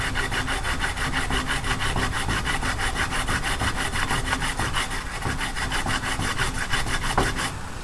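A knife saws back and forth through a carrot in a home kitchen, a steady rapid rhythm of close, loud rasping strokes running continuously with no talking.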